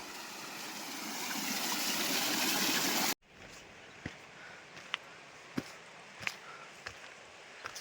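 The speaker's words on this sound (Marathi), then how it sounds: "या साईडला पाणी पडतं" Steady rushing water roars as it falls at Dhamni Dam in Palghar district, India, for a few seconds, then cuts off abruptly, leaving a quieter background with scattered clicks and knocks.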